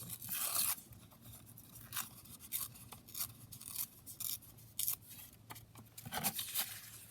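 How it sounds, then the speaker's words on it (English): Paper torn from a book page for a craft journal, with several short ripping and rustling bursts scattered across the quiet, close-up handling noise. "So I just kind of tear it, into the image itself, like that."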